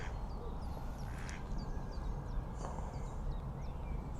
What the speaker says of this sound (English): Try and get him quacking.